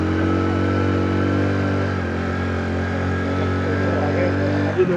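A vehicle engine strains steadily in first gear while climbing a steep mountain road, a constant mid-pitched drone that holds loud and even throughout, with a voice talking over it.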